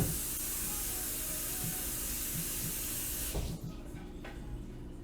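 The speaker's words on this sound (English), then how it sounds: "I'm going to rinse my board." Steady running tap water rinsing tomato juice off a cutting board in a kitchen sink, a close, even hiss that cuts off abruptly partway through, leaving quiet room tone.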